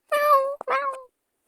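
A cat in the game Avatar World gives two quick meows, the first longer and the second shorter, clear and close with silence around them.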